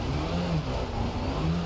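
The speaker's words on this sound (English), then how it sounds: "Slamming on the brakes and downshifting into first gear." A car engine in the Richard Burns Rally driving game revs hard while downshifting under braking, a steady loud mid-pitched drone with shifting engine tones, close and alone.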